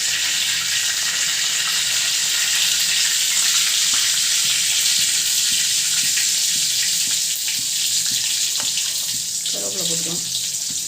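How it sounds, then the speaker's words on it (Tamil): Spices, onion and tomato fry in a pan, making a continuous sizzling crackle that stays steady and close throughout, with faint kitchen clatter near the end. "இதை போட்டு பொரிய விட்டுக்கலாம்."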